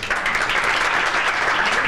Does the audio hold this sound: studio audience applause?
yes